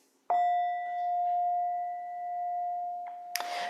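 A meditation bell is struck once to open a practice, giving a clear bright ring that sustains and slowly fades, followed by a faint tap and a short rustle.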